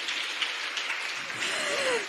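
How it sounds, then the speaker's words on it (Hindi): A seated audience at a Dhyan Mahayagna forgiveness meditation session in Uttar Pradesh bursts into steady, dense clapping that holds for about two seconds, with a faint voice passing briefly near the end. "तालियां फ्रेंड्स।"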